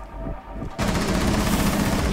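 Automatic gunfire in Rainbow Six Siege on the Chalet map: after a quieter moment a dense, loud rapid-fire burst bursts in and continues without pause, close and harsh.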